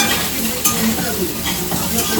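Potatoes and soya chunks frying together in a pan, giving a steady close sizzle with stirring scrapes and a few sharper clicks, alone without talk.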